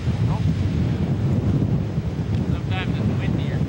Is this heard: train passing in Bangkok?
no